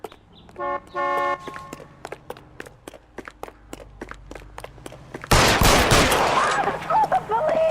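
Gunfire in the video game L.A. Noire, a series of sharp evenly spaced shots with car horn toots, followed by a loud burst of noisy clatter and a shouting voice.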